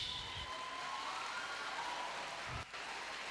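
A crowd applauds a woman at a youth empowerment event, a steady, dense wash of clapping that runs without a break for the whole stretch, with no voices over it.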